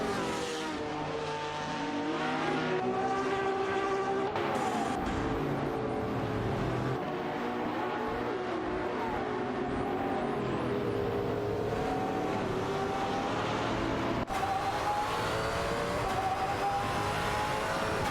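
AI-driven race cars in a racing video game roar steadily with layered engine whine, shifting pitch as they accelerate and hold position, loud and continuous throughout.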